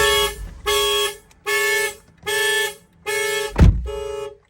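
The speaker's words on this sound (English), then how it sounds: "So the alarm went off because I was inside the car" A 2016 Lexus IS 300's car alarm blares in five loud, evenly spaced bursts of a harsh pulsing tone, with a brief thump just before the last burst.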